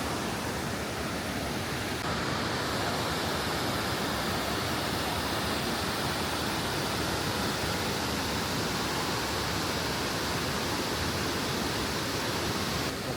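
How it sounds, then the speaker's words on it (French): The Montmorency waterfall roars as a constant, dense broadband rush of falling water, loud and unbroken from start to finish with no voices. "on passe tout devant la cascade"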